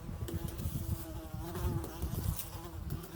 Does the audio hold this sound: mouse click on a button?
no